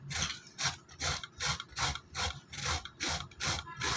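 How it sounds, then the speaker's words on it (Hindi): Bottle gourd (lauki) being grated on a kitchen grater for raita, a steady rhythmic scraping of about ten even strokes, close and clear with no talking. "इस तरह से हम लौकी को पूरा घिस लेंगे।"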